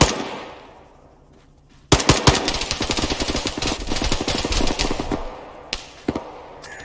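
Sustained automatic gunfire in a military video game, a loud close burst of rapid rattling shots lasting several seconds, followed by a few scattered single shots.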